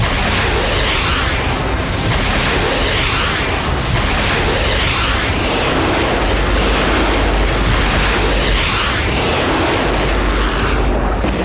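Russian Iskandar-M ballistic missile strike near Zelensky's office in Kyiv, Ukraine: a loud, continuous roar of blasts and rumbling that fills the whole stretch without pause, with no voices.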